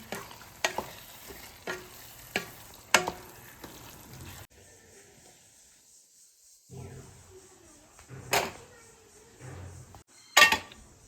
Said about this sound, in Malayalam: ഇനി അതിലേക്ക് മല്ലിച്ചപ്പും കൂടി ഇട്ടെടുത്തിട്ട് നമുക്ക് അവിടെ ഇറക്കി വെക്കാം ഇനി ചോറ് റെഡിയാക്കാം എന്നാ ഇളക്കി കൊടുക്കുക